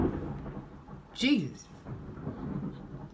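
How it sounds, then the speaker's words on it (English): Low thunder rumbles through a rainstorm, a rolling swell that peaks briefly in the middle as a voice gives a short exclamation over the steady wash of rain. "I don't like thunder."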